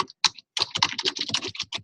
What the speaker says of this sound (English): So I'm going to type this in the chat.